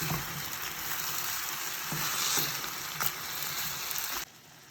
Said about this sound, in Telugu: ఇవంతా కొంచెం కుక్ చేద్దాం మొత్తం ఒకసారి కలుపుకొని కుక్ చేద్దాం